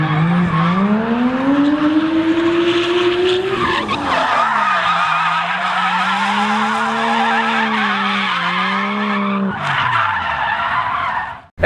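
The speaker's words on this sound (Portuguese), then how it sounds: "o carro é implacado, vocês estão vendo aí, mas ele destrói no drift" A Nissan Silvia S14 drifting on a track, its engine loud and rising and falling through revs while the tires squeal and skid continuously, close and intense throughout.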